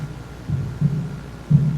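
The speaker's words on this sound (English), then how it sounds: "The heartbeat." A slow, muffled heartbeat sound effect from a cursed VHS horror tape, with deep low thumps arriving in uneven pairs over a dark, humming background and no talk.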